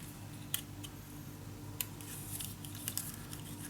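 Scissors snip through a paper ladder for a craft mini album, a few sharp, separate cuts spread out against a steady low background hum.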